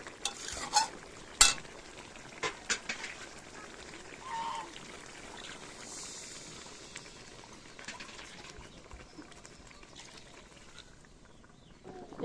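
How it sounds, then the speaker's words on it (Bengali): A small splash of broth goes into a long-simmered meat curry, followed by quiet, close stirring and scraping in the pot over a faint bubbling sizzle, with a few sharper clinks early on and no talking. "এখন সামান্য অল্প একটু ঝোল দেব"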